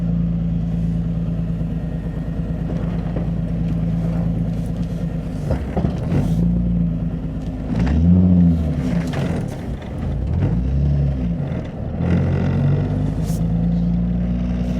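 Nissan 350Z on a new tire setup, heard from inside while driving: a steady low engine drone and road rumble with rising and falling revs as it accelerates and shifts.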